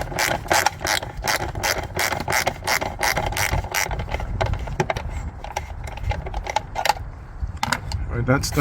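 Ratchet clicking rapidly as a bolt on a Mercedes-Benz S560 air filter housing is loosened, close and sharp in repeated bursts, pausing briefly near the end.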